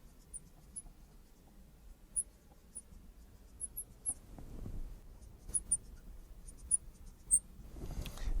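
Handwriting, with pen strokes scratching and tapping across a surface as logic statements are written out, soft close scratching with small sharp ticks spread irregularly through the stretch.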